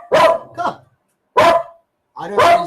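A dog barks sharply nearby in three separated bursts, the first a quick double bark, with short silent gaps between them.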